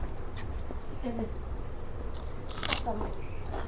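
Someone eating panta bhat, soaked rice, with raw chillies and onion, sharp crunchy bites and chewing close to the mouth while people talk.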